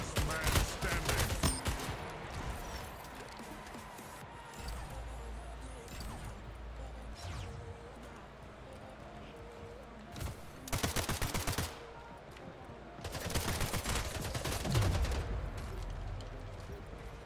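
SMG gunfire in an online shooter video game, with rapid bursts of shots repeating at several points across the clip, loud and close, over a continuous game soundscape and occasional talk.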